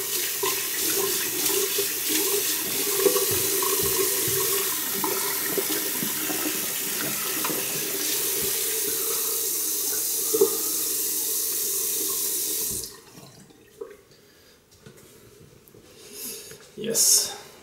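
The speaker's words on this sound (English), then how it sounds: "And we go for some cold mountain water." A tap runs cold water steadily into a sink, a continuous close rushing that fills most of the span before cutting off, followed by a few brief splashes and drips.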